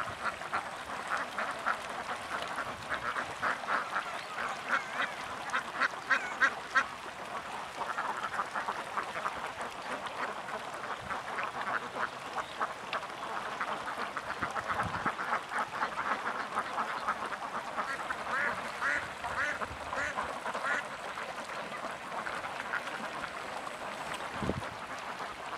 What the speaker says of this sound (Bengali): বিশাল হাঁসের মেলা এখানে।